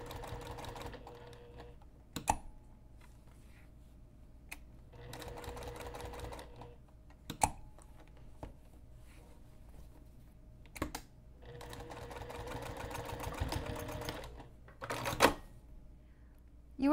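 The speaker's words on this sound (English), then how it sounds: "you can just go ahead and keep sewing." Several short bursts of machine stitching sew an X through a box on nylon backpack straps, separated by pauses with sharp clicks and handling taps, fairly close but quiet.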